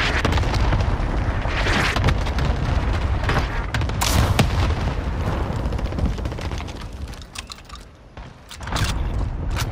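Airstrike explosions rumble in a combat video game, dense overlapping booms that swell and rage nearly continuously, easing briefly before another heavy blast near the end.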